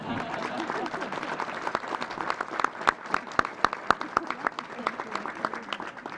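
Audience applause at a news conference on an annual trafficking report, a dense wash of clapping that grows into sharper, louder individual claps toward the end.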